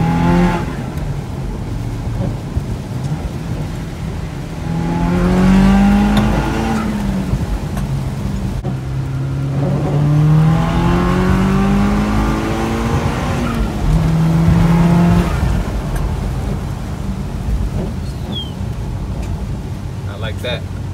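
A turbocharged car engine revs up through the gears from 0 to 40, pitch climbing and dropping with each shift, loud and close, with rumbling road noise underneath and no speech.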